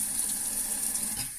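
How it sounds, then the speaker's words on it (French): A small amount of water is poured from a tap into a small saucepan for a cheese sauce, a brief, soft, close splashing hiss that stays steady for about a second and then tapers off. "Voilà, un tout petit peu d'eau."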